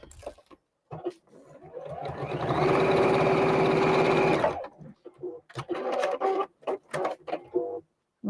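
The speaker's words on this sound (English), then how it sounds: "We can start sewing right from the edge this time." An electric sewing machine stitches foundation-pieced quilt blocks: a loud, steady mechanical whir with a tonal hum runs for about two seconds, bracketed by brief starts, handling noises and softer intermittent bursts of stitching.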